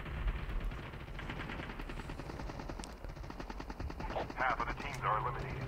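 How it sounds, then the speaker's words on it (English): Rapid machine-gun fire rattles steadily in the mobile shooter game Call of Duty Mobile battle royale, with a helicopter-like drone underneath and someone talking over the shooting. "I think we just got shot at"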